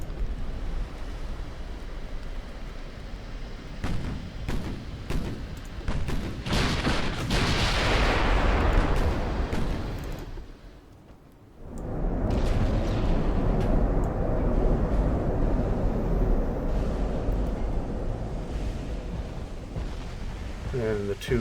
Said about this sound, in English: And the 2 bow turrets firing at you again.